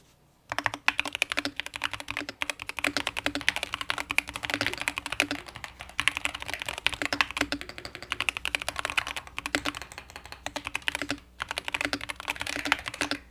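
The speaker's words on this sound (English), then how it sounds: "listen to the typing on this. It sounds like, and feels honestly like butter." Steady, rapid keystrokes clatter on a mechanical keyboard, close and continuous with short pauses, soft rounded clicks.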